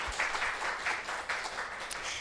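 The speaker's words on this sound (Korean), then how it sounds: "리더님께 다시 한번 큰 박수" An audience at a company seminar gives faint, steady applause, a soft wash of many hands clapping heard at a distance for a couple of seconds.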